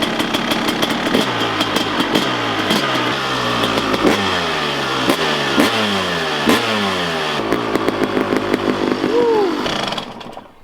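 A Kawasaki KX250 two-stroke dirt bike engine runs loud and close, its buzzing idle rising and falling through repeated throttle blips and revs before cutting off abruptly at the end.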